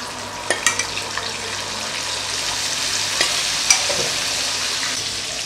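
Chicken pieces frying in oil give a steady, close sizzle with occasional crackles and pops and a few soft stirring clinks, and no one speaks.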